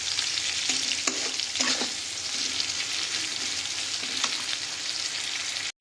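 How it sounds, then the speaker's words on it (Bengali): Chopped onions frying in oil for a Bengali chela fish curry, a constant close sizzle broken by scraping stirs of a spatula against the pan, with no talk. "পেঁয়াজটা দিয়ে এবার আমরা একটু লাল লাল করে খুব ভালোভাবে ভাজা করে নেব প্রথমে পেঁয়াজটাকে"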